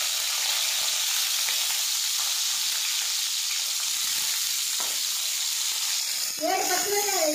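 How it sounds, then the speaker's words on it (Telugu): Green chillies hit hot oil and fry with a dense, steady, close sizzle and hiss, joined near the end by a person talking. "నెక్స్ట్ మనము పచ్చిమిరపకాయ వేయించుకోవాలి"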